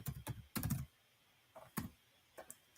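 Keystrokes on a computer keyboard come in short uneven bursts with brief pauses between them, close and fairly quiet, with no talking.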